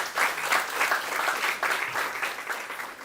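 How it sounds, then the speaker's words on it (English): Audience applause at an international conference: a close, lively patter of many hands clapping continuously for a few seconds with slight swells in intensity. "give a big round of applause to the government also"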